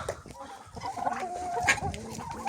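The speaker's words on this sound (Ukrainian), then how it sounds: "Ось така курочка моя" Hens clucking close by in a farmyard where turkeys are feeding, a steady run of soft clucks and a few sharper calls that go on throughout.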